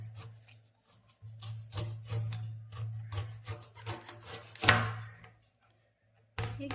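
A knife saws and chops through a whole pineapple in repeated rough, scraping strokes, close and fairly quiet, with a low hum underneath and a short pause near the end.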